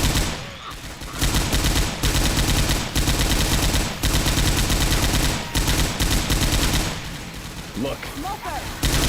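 Rapid, continuous naval gunfire from a Fletcher-class destroyer in a ship combat game, loud dense salvos repeating almost like a machine gun, with short gaps and a voice speaking over the firing.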